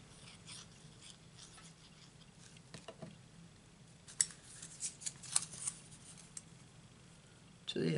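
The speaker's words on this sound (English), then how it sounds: "I will just cut round the bits of red that are showing." Scissors snip around small red cardstock pieces behind a butterfly die-cut on a handmade card, giving a few faint, quiet cuts and rustles scattered over a low room hum.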